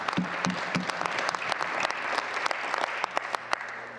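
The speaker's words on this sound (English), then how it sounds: "I heard a clap." A crowd claps steadily for about four seconds, with sharp individual claps standing out over a dense spread of applause at moderate volume and no talking.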